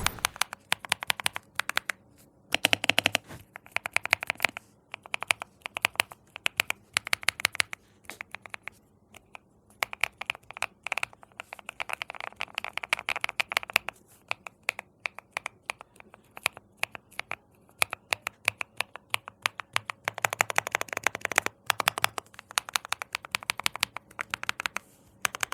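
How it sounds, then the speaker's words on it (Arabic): Keys clatter on an Epomaker RT100 Pro mechanical keyboard in fast, dense bursts of crisp clicks and clacks, close up and alone, with short pauses between runs of typing. "تعالى بقى اما اسمعك صوت الكيبورد نفسه عامل ازاي على الحقيقه"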